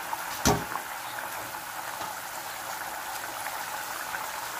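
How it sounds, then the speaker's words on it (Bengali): Water boiling in a pot while making katla fish curry (tel jhal), a steady close bubbling hiss with one sharper splash or clatter near the start. "জলটা ফুটে গেছে।"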